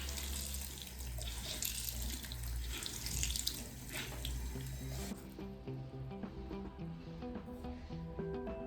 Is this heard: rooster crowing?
no